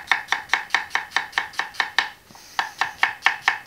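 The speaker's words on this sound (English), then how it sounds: "Making sure we cut the cores out of the onions so that the onions layers don't stick together." A knife chopping onions on a cutting board, steady rapid knocks in an even rhythm, a brief pause, then the chopping resumes, close and clear with no voices.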